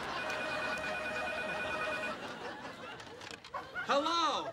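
An indoor telephone in a sitcom scene rings with a steady electronic tone for about two seconds. The ringing then stops, and voices and audience chuckles follow.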